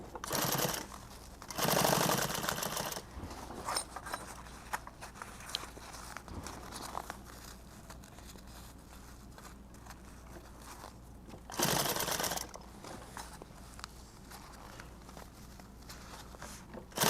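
A sewing machine stitching fabric comes in a few short whirring bursts, about a second each, with long stretches of quieter handling and rustling in between.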